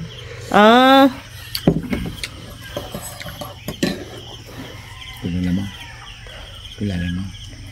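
A rooster's rising call starts things off, followed by several short clucks from chickens spaced through the clip, with scattered background noises between them.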